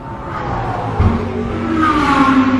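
GT race cars run on the East London Grand Prix circuit during a South African GT Racing Association heat, engines droning and rising into louder revving as cars approach and pass.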